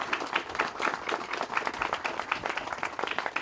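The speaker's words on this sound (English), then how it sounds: "Give her a round of applause." An audience claps steadily in a dense, even burst of applause at an outdoor groundbreaking ceremony for a public safety campus, held under a small tent; no voices stand out over it.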